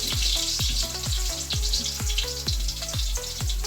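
Chicken pieces frying in a pan until brown for Filipino chicken adobo, giving a steady close sizzling hiss under rhythmic background music with thumping beats.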